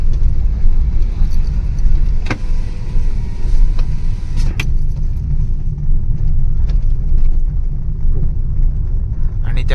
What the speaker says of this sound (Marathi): बघू शकता की किती स्लो गाड्या चाललेल्या आहेत पुढे.